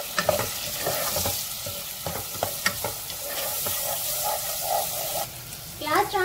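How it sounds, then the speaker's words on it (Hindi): Finely chopped onion sautéing with cardamom in a pan for parda gosht, a steady close sizzle with repeated spoon clinks and scrapes while stirring, and a short voice near the end. "1/4 हमने डाली एक बारीक चॉपी हुई प्याज, जिसे हम सौते करेंगे"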